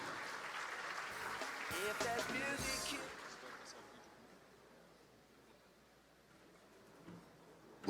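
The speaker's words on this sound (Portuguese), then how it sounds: "Uma salva de palmas, senhor Daniel, senhor Reginaldo." An audience at a traffic-education congress applauds speaker Reginaldo Daniel da Silveira, CEO of Triton, with moderate clapping that builds and then fades away to quiet near the end, with a voice briefly over it.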